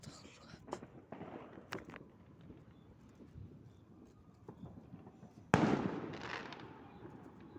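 A firecracker goes off on New Year's Eve with one loud, sudden bang after quieter outdoor crackles and soft voices, its noisy tail lingering for a couple of seconds.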